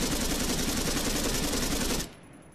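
Rapid sustained automatic gunfire from a rifle in the Arma 3 video game, loud and dense for about two seconds with the shooter controlling recoil against a wall, then cutting off abruptly into near silence.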